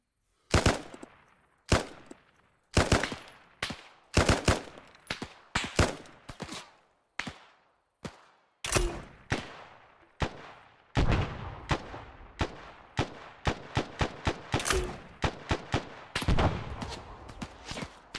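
Gunfire in the military shooter Arma 3 comes as sharp single shots and short bursts, spaced irregularly at first and then quickening into rapid volleys, each crack loud and echoing briefly.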